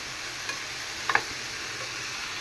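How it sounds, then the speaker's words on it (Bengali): Stalk greens (data shak) with a small potato fry softly in a pan over onion and dried chilli, a low steady sizzle with a couple of brief clinks in the middle. "এখন আমি শাক ভাজি করতেছি"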